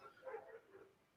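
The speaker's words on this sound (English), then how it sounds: "Excuse the barking, my dog." A small dog yips a couple of short, faint barks in a room, soft and distant, alone without talk.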